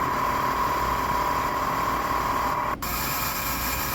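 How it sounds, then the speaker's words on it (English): A homemade walnut-media blaster running with a vacuum attached in the intake opening of a GDI engine, a steady close hissing roar that cuts out briefly near the end. "just put it into the intake opening, turn on the vacuum, and start sandblasting."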